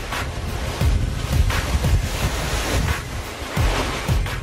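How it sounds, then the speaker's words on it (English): Storm-surge waves batter the Norfolk coast near Cromer pier, engulfing the beach and promenade, a continuous roaring wash of surf with repeated heavy crashes and gusting wind noise across the microphone. "the pier at Cromer is next to be battered as waves engulf the beach and the prom"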